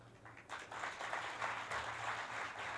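Audience applause at a televised Hindi talk event, a steady, moderately distant wash of clapping that rises after a brief quiet start and holds evenly to the end, faint overall.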